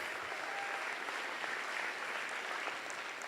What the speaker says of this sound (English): give yourself a huge round of applause